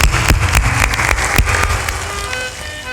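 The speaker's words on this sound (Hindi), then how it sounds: "एक बार जोरदार ताली बजा करके अभिनंदन करें।" A satsang audience in Bihar applauds loudly, with dense, steady clapping that stays strong and then eases slightly toward the end.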